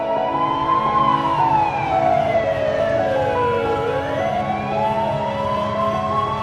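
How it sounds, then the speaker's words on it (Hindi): Wailing ambulance siren in a cartoon traffic jam, its tone sweeping steadily up and down, loud and continuous against a low rumble of stalled traffic, with no talking. "अब तो एम्बुलेंस भी रुकी हुई है"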